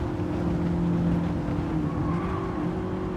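A race car engine in Gran Turismo 7 drones with a strained, labouring tone on corner exit, holding steady and loud with slight pitch shifts and no talking.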